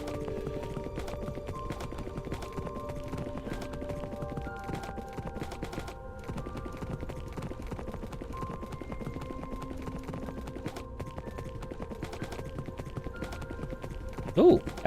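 A horse in Minecraft, in a Dungeons & Dragons setting headed for icy Icewind Dale, clip-clops in a steady, continuous hoofbeat rhythm against a faint tonal backdrop.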